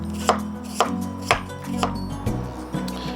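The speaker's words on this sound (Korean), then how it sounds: "감자를 채 썰 거예요. 아주 얇게." A knife julienning potato on a cutting board strikes about six evenly spaced, crisp chops, close and clear with no talk.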